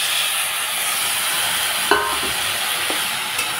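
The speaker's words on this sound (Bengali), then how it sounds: "এখন দিয়ে দিচ্ছি সেদ্ধ করা টমেটো।" Boiled tomatoes tipped into chickpeas already frying in a pan for ghugni, giving a loud, continuous sizzle with a couple of brief clanks and stirring scrapes, and no voices.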